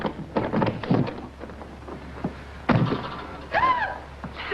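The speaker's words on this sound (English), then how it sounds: "Well, open the door." An old door is opened in a 1940s film scene, with a dull thunk partway through followed by a short, rising creak of the hinges, close and fairly quiet.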